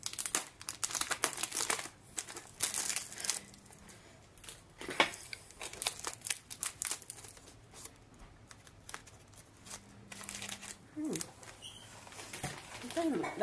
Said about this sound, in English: I'll open the pack and show you what it looks like.